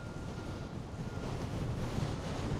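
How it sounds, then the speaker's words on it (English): Gusting wind on a bare hilltop batters the microphone in a continuous low rumble that grows slightly stronger toward the end, with no speech. "it's very windy, so excuse me if I shout"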